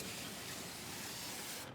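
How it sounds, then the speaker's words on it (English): A steady, close hiss of an aerosol can spraying continuously onto the intake of a 1966 Ford wagon engine, ending abruptly just before the clip finishes. "I'll just go ahead and spray on some of this stuff"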